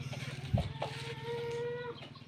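Farm chickens cluck close by: a few short clucks are followed by a drawn-out call over a steady background hum.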